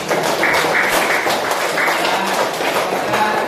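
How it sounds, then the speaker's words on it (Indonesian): A classroom of students applauding at the close of a lesson, a dense and steady patter of many hands clapping at close range, holding evenly for several seconds with no talk over it. "tepuk tangan buat kita"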